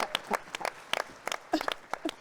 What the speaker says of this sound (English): So please clap hands for us.